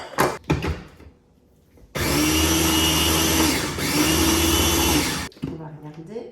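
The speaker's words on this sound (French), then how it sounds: "je vais mixer" A kitchen blender mixing skyr gives a loud steady whir that runs for about three seconds with a brief dip partway through, set between quieter handling noises and talk.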